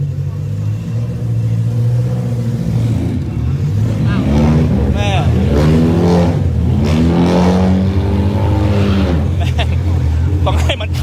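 Race car engine on a track revving and accelerating, a steady loud drone with rising and falling pitch sweeps, with a person talking over it throughout.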